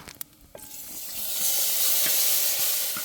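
Prawn heads drop into hot tempering and set off a loud, building sizzle that settles into steady, hissing frying, with a few stirring clicks at the start.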